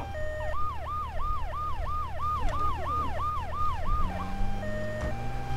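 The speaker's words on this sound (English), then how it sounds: "Send another ambulance out." Wailing ambulance siren in Grand Theft Auto 3, a steady rising-and-falling yelp repeating about nine times over game engine hum, then cutting to a lower tone as a vehicle drones beneath.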